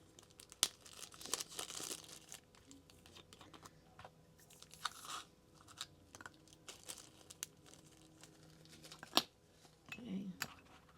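Tape being pulled and torn off a roll while packing small craft kit pieces into bags. Scattered close crinkles and sharp rips come over a low background hum, with a person speaking softly now and then.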